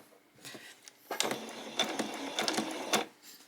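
Sewing machine back stitching a skirt seam, with bursts of rapid mechanical whirring and clatter starting and stopping, close and moderately loud with no talking.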